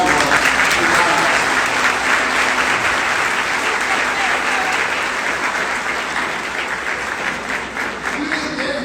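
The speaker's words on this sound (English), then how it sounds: "we should begin by clapping our hands for those loved ones." A large crowd at a June ceremony applauds loved ones, a dense, loud, continuous wash of clapping that holds steady throughout, with some voices mixed in beneath it.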